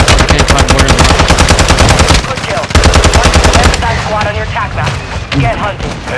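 Rapid machine-gun bursts and gunshots fill a combat video game, loud and close at first, then more scattered shots and booms while a player's voice cuts in.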